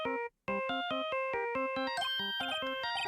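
A bright electronic phone ringtone melody from the Phoenix Wright video game plays as a quick sequence of plucky synthesized notes after a brief pause, clear and close with no voices.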